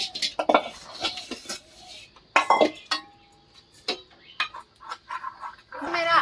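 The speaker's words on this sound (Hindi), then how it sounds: "देख सकते हैं दोस्तों, बर्तन धो रही है।" Dishes, pots and utensils being washed by hand in a home kitchen, with irregular close clinks and clatters of metal and crockery, scraping and bumps in bursts, and a voice speaking briefly in between.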